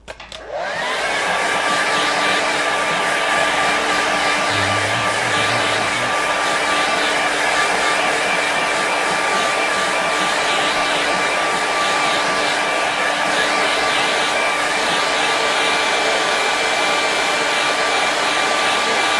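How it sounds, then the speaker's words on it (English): A hair dryer blows steadily and loudly at close range over a flat painting, a continuous whooshing roar with a constant motor whine that starts abruptly and runs unbroken to the end. "I'll just make sure that's flat and I'll just give it a quick dry."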